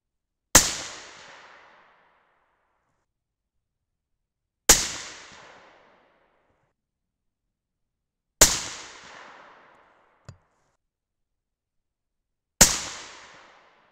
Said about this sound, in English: so let's go ahead and keep shooting.